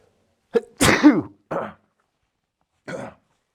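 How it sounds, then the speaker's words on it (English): A man with a cold sneezes loudly and close, a sharp explosive burst followed by a few shorter snorting exhalations and a sniff in an otherwise quiet room. "I'm going to sneeze."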